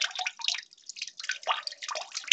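Aquarium water drains out through a garden hose, giving a busy stream of splashing, trickling and dripping that runs continuously and close by, with no voices.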